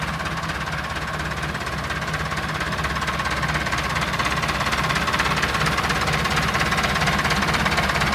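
A Massey Ferguson 290 4x4 tractor engine running hard under full load, a steady loud diesel drone with a rapid knocking pulse that never lets up, heard close and alone.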